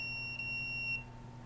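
An alarm in an apartment unit gives off a faint, steady high-pitched electronic tone that holds for about a second over low background hum.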